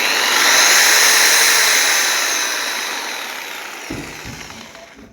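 A Titan jigsaw runs loud and steady with a high motor whine, easing off gradually before a short knock near the end, with no talking.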